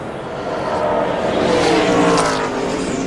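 Race cars roaring past at the 2003 ARCA Pennsylvania 200 stock car race, a dense, loud engine wash that swells toward the middle and holds steady, with no voices over it.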